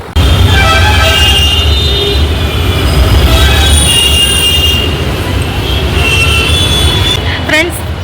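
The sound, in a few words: metro train running on rails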